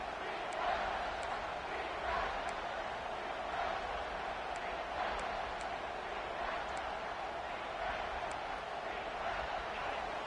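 A college football stadium crowd roars steadily at a distance, a broad continuous wash of cheering that stays even throughout with no talk in the foreground.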